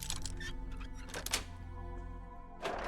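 Lock picking in the Fallout 4 video game: soft mechanical clicks and scraping thunks against a low humming backdrop, ending in a brighter clack as the lock gives.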